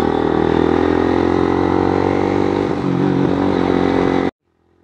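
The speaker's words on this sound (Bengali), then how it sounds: "একদম শর্ট গিয়ারে হাই আরপিএমে বাইক উড়াইতে হয়।" A motorcycle climbs a steep hill road toward Sajek in a short low gear at high rpm, its engine loud, close and steady under strain for about four seconds before cutting off abruptly.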